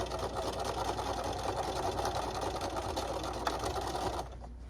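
A sewing machine stitches across the boxed corners of a fabric bag with a quarter-inch seam, a steady, fairly quiet mechanical hum that runs continuously and then stops abruptly near the end.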